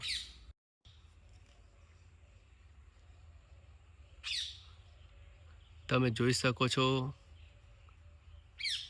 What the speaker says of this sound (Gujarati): અહીંયા ફક્ત પક્ષીઓનો કલરવ એટલે કે પક્ષીઓનો જ અવાજ આવે છે